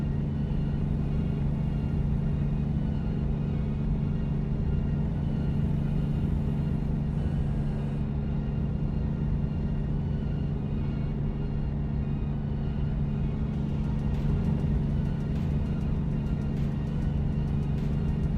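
A Volvo truck of nearly 700 horsepower drives along in a simulated game, its engine a loud, steady low droning rumble that holds constant throughout with no talk over it.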